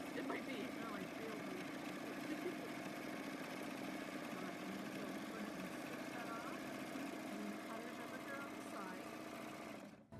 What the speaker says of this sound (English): I think this might be the first time I've stitched on a wave stitch